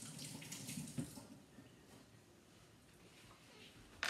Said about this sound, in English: And I'm just going to wash my hands real quickly